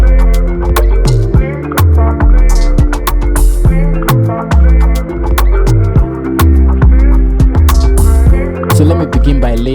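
A dense, loud Afrobeats beat plays alone, with punchy drums and deep bass hits in a steady, bouncy groove beneath layered melodic tones.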